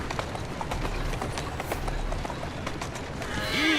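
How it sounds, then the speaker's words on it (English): Horse hooves clip-clop steadily on a street in Assassin's Creed Syndicate, set in Victorian London, a continuous loud trotting rhythm with game ambience in the background. "Easy now. Who's a good horse?"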